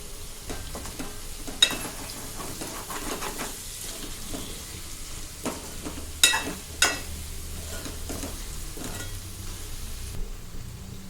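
Chicken and onions frying in a pan while being stirred with a spoon: a steady soft sizzle under scattered scraping and clinking strokes, close up, with no talking.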